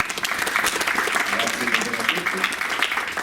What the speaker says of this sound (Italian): Adesso vi presento Marco, un applauso